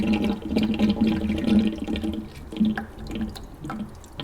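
Water drains out of a Rinnai RSC160iN tankless water heater during a flush, pouring and splashing with uneven gurgles and drips, close and moderately loud, easing off toward the end.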